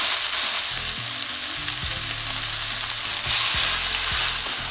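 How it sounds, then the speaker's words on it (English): Beef mince sears in lightly oiled pan over medium-high heat, a steady loud sizzle and crackle with a few soft scraping stirs, no voices. "When nice and hot, in with your beef mince."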